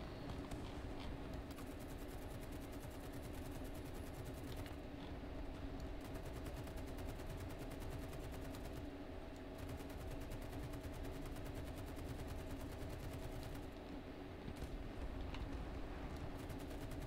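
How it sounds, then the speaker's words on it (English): Anti-aircraft gunfire in the War Thunder video game, dense continuous rapid bursts of automatic fire with overlapping rattling shots, sustained and fairly faint, with no talking. "The amount of anti-air fire that is in the air at the minute isn't even funny."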